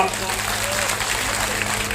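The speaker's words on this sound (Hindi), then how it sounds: "इनके लिए जोरदार तालियों से संगीत।" Steady applause from an audience at a religious Bhagwat Katha gathering in a village, continuous and fairly loud for two seconds with a crowd murmur underneath.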